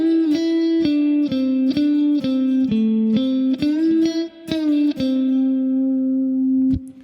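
Electric guitar solo lick: a moderate-paced run of clearly picked single notes with bends and slides, closing on a long sustained note, played alone with a touch of reverb.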